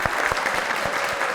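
A studio audience at a comedy talk show breaks into steady, moderately close applause, with individual hand claps standing out as sharp thumps within the dense clapping.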